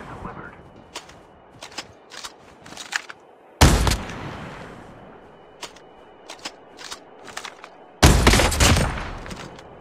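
Sniper rifle shots in the Call of Duty Mobile video game, two sharp loud blasts several seconds apart amid clicks and small in-game noises, with a voice talking through it.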